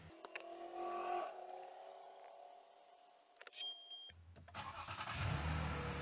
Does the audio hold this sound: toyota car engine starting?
yes